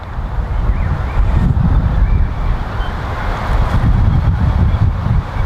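Strong wind blowing across an open golf course, a loud continuous rumbling roar with gusting buffets hitting the microphone.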